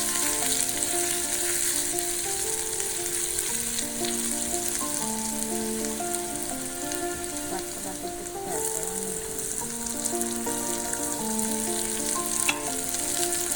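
Onions frying in a pan for a Nepali ajwain soup give a steady, close sizzle with crackling throughout, loud and continuous with no voices.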